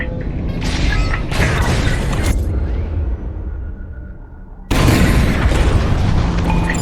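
Bombs detonating during a Y-Wing run in Star Wars: Squadrons, heavy rumbling booms rolling in waves, with a lull and then a fresh loud blast that keeps thundering.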